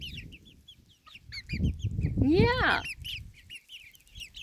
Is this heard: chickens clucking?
yes